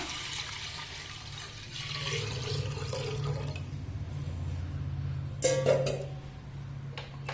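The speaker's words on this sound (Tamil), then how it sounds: "அப்படி 6 கப்பு தண்ணி இப்போ அதையும் இதில் சேர்த்துடலாம்" Water being poured into a clay pot while sweet pongal is made, a steady rushing splash over a low continuous hum, with a brief clatter near the end.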